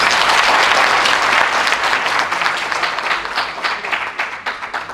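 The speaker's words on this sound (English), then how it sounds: "Can you clap hands for yourselves?" An audience at a university school of engineering symposium claps for the graduating cohort, loud dense applause that slowly thins into scattered, uneven claps.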